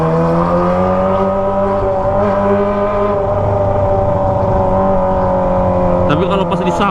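A Kawasaki ZX25R motorcycle with a Toce exhaust idles and revs gently in a crowded area, a steady near engine hum with a brief sharper blip near the end, while someone talks over it.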